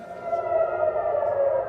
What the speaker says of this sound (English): Sirens in Israeli towns and cities were the signal for residents to head to bomb shelters.